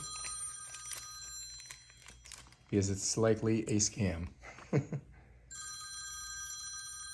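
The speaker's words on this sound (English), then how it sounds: "Somebody's trying to call us. We're not answering our phone" A telephone bell rings in a steady trill before and after a person speaks briefly over it, the ringing loud and close in an indoor room.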